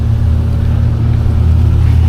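Steady low inboard engine drone of a Merry Fisher 695 motorboat running through swell, a constant close hum with no voices.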